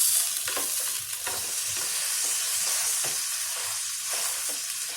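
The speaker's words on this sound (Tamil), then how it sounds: "இந்த வெண்ணெயிலேயே நல்லா பன்னு அப்படி மொறுன்னு ப்ரெட்டு பொரிச்சா இப்படி இருக்கும்" A halved bun frying in butter on a hot pan, a continuous bright sizzle with soft periodic pressing and scraping sounds, close and steady with no talk.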